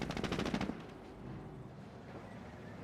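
Rapid machine-gun fire rattles at Grenadiers in the World War II strategy game Company of Heroes, a fast burst for under a second before fading into a low rumbling battle ambience.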